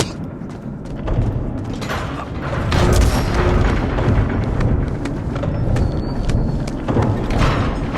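A bomb detonates in the video game Little Orpheus, a loud, dense rumbling boom with heavy low thuds and mechanical creaks that sustains across the whole stretch without fading.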